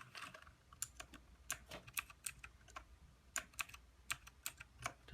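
Rapid, uneven keystrokes on an E-Element Z-88 RGB mechanical keyboard, with crisp clicks coming singly and in short clusters, close up and with no talking.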